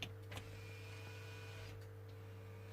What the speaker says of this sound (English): So now when I pull the parking brake, you're gonna see